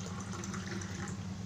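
Water pours into a clay pot to half-boil rice for pot biryani, a short, steady, close rushing pour with no voices.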